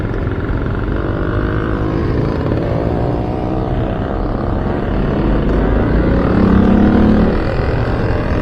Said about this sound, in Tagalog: may makina yung bike